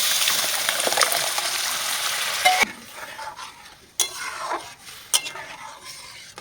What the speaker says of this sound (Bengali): এবার পুরোটা ঢেলে দেবো